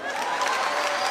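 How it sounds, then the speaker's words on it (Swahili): Audience applause from a live comedy show crowd, a dense steady patter of clapping filling the space at moderate loudness, with a faint murmur of voices beneath. "Makofi kwangu."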